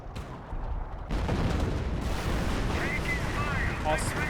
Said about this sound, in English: we got a Hummel barrage now counter barraging